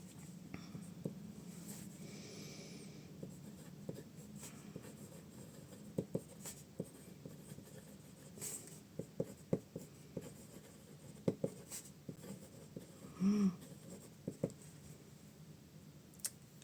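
Fountain pen with a medium M nib scratching across paper, quiet and close, in short irregular strokes with small taps, alone.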